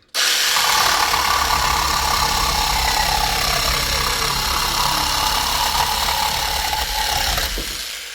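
A loud, continuous buzzing motor with rapid rhythmic cutting noise, an AL-KO cordless reciprocating saw working steadily through boards before winding down at the end.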